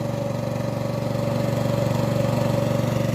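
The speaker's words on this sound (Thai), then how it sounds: "นี่ลุงโจงสูบน้ำเขามานี่" An engine-driven water pump runs close by with a loud, steady, throbbing mechanical drone that holds an even pitch from start to finish.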